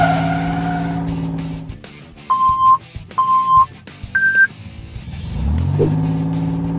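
A toy sports car gives three short electronic beeps, then revs up and speeds off with a rising whine, over bright music.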